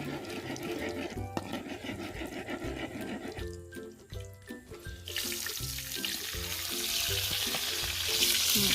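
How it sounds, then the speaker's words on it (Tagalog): Steady sizzling of fish frying in hot oil, a continuous crackling hiss that grows brighter and louder toward the end, with low background noises. "ang init pag nagpiprito na siya ng isda"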